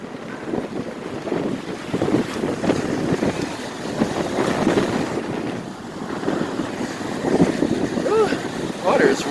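Rough surf and strong wind at Inlet Beach, Florida, with dangerous surf conditions: steady broadband wash of waves and wind buffeting the microphone, loud and continuous, with a faint voice briefly under it.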